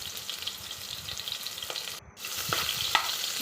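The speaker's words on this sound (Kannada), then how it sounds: "ಇವಾಗ ಹಚ್ಚಿಟ್ಕೊಂಡಿದ್ವಲ್ಲ ಈರುಳ್ಳಿ ಮತ್ತು ಟೊಮೊಟೊ ಅದೆರಡನ್ನೂ ಹಾಕ್ಕೊತಿದ್ದೀನಿ. ಈರುಳ್ಳಿ ಸ್ವಲ್ಪ ಫ್ರೈ ಆದಮೇಲೆ ಟೊಮೊಟೊ ಹಾಕ್ಕೊತೀನಿ." Onion and tomato frying in hot oil for a tomato bath, a steady close sizzle with a few stirring scrapes and small spatters rising toward the end, no voices.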